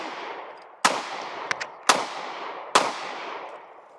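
Three sharp Sig Sauer P320 pistol shots at an outdoor range, X-Compact and Sub Compact models, spaced about a second apart, each with a short ringing decay, plus a faint smaller pop between them.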